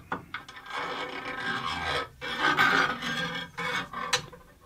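A metal bar slides through bearings on a CNC machine, giving a continuous scraping, rasping rub with uneven surges and brief gaps, close and fairly loud with no talking.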